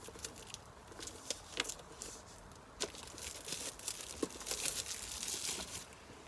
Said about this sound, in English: So get a knife under the plastic.